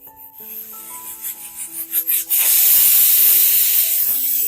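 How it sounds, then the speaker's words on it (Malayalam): A pressure cooker cooking beef vindaloo, low rumbling pulses that swell rhythmically before the whistle bursts into a loud, sustained steamy hiss, with some tonal hum underneath, no talking. "വിസിൽ വന്നു."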